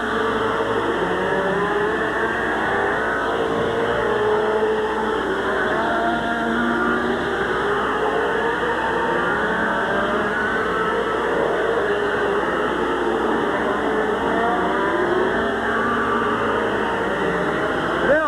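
Race cars running at Midvale Speedway, Ohio, in 1986, a continuous droning roar of engines circling the track with shifting pitch, heard from a distance as a steady wall of noise.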